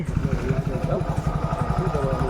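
A motorcycle loaded with luggage and bags runs nearby with a steady, throbbing mid-pitched engine note and faint clatter, continuous throughout.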